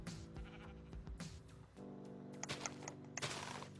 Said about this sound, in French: Il y a tellement de moutons.